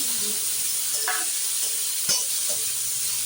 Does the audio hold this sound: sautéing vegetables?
yes